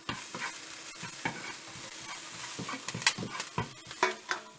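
Oyster mushrooms tossed into a pan of frying minced ginger sizzle steadily while being stirred, with repeated scraping and clattering of the utensil against the pan, close and fairly quiet.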